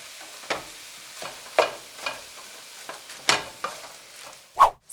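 Meat cooking in a pan for zucchini enchiladas, a steady low sizzle broken by several sharp scraping stirs and clinks spread across the clip, with one louder knock near the end; no talking.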